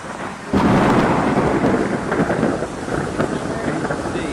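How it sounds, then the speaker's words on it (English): Loud, crackling thunder rolls on for several seconds, with rain hissing steadily underneath, during a Category 5 hurricane making landfall in Jamaica. "The loud crackling thunder came out."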